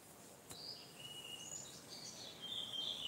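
Several birds chirp and call outdoors in a quiet morning setting, with thin, high chirps scattered across the recording and a faint insect-like hiss beneath; no one is talking.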